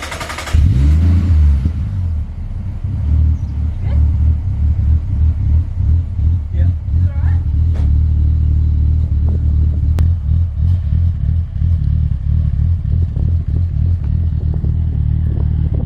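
A Ford Falcon engine with an aggressive camshaft starts and settles into a loud, lumpy, uneven idle with a choppy rhythm, close by, with occasional talk over it.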